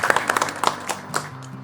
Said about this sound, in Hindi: तो ज़ोरदार तालियां सर जी के लिए।